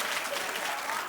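Studio audience clapping at a daytime talk show, a dense steady wash of applause for the whole short stretch, loud and close with no break.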